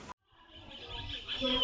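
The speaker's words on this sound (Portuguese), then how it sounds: "Você até escuta silêncio, tem uns pássaros." Birds chirp outdoors at a chocolate farm in Brazil, with a few faint, brief high calls over a soft open-air background and quiet voices nearby.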